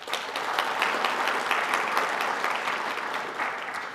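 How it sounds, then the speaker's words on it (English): Steady, dense applause from a conference audience at an opening ceremony, loud and sustained for the whole stretch with no talk over it. "One more round of applause for the Wondrous Club"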